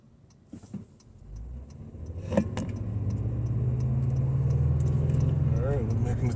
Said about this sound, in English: I'll give it a little gas here so you can hear how it sounds